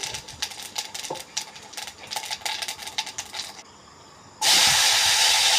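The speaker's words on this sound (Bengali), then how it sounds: "প্রথমে আমি গোটা জিরা দিয়ে দিচ্ছি" Whole cumin seeds hit hot oil, giving rapid close crackling pops that thin out, then a sudden loud, steady sizzling hiss that runs to the end with no talking.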